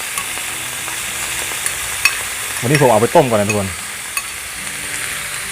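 Beef sizzles in a pan while being stir-fried with red curry paste and pickled bamboo shoots, a steady, close frying hiss with small crackles throughout, and someone talks briefly over it midway.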